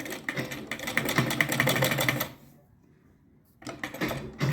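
A sewing machine stitches a blouse with a fast, rattling run that lasts about two seconds, stops briefly, then starts again.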